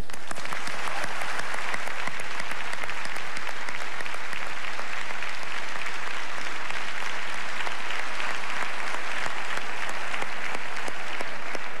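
A large audience at the Gala Les Olivier comedy awards breaks into loud, sustained applause that fills the room steadily from start to finish, with no voices rising above it.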